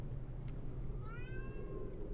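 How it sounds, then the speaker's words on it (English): A pet cat wanting to be let outside gives a single drawn-out meow, moderately close and clear, over a low indoor background hum. "Wow, that is the first time one of my cats has been vocal about wanting out"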